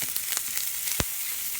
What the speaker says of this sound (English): And you see that sizzle? And I'm sizzling because I put that butter in there.